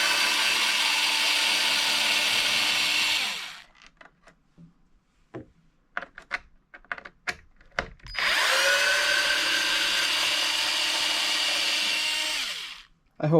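Power tool spinning out screws on an Arrma Bigrock RC truck, two sustained whirring bursts separated by a stretch of light clicks and handling taps, close up.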